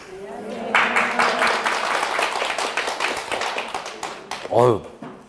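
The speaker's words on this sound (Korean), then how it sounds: "박수 소리는 꽤, 크게 나네요." A lecture audience in a real-estate law class bursts into brisk, crowded applause that fades gradually, with a voice cutting in briefly near the end.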